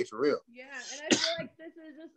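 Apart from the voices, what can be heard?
sneeze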